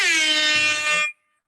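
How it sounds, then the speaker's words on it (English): A loud, blaring air horn sound effect blasts on its own for about a second and then cuts off abruptly. "So I'm going to go ahead and use the very annoying air horn."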